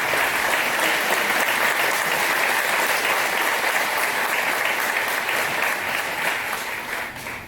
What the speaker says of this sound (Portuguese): vamos todos de pé dar uma salva de palmas para esses